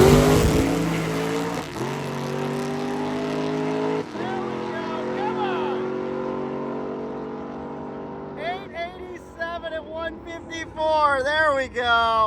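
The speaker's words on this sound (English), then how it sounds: "the big old blown Hemi in the 55 is ready to go down the track" Blown Hemi engine in a 1955 drag race car idles and revs with a loud, steady low roar, a couple of sharp throttle blips, then talking over the rumble near the end.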